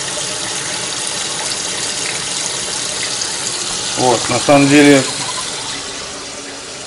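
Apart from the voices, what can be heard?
water flowing through a brewing chiller hose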